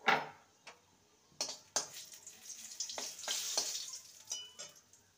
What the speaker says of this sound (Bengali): শুকনো লঙ্কাকে দু টুকরো করে দেব। ফোড়নটাকে কয়েক সেকেন্ড ভেজে নেব।